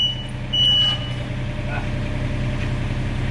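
A Komatsu excavator rumbles steadily at close range, its engine drone continuous under a brief higher whine, with faint intermittent beeping above the low mechanical noise as it drives forward on its tracks.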